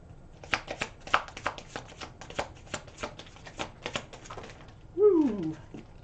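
Tarot cards shuffled and pulled by hand for a Scorpio reading: a steady run of quick, close, papery riffles and slaps, with a brief bird coo near the end.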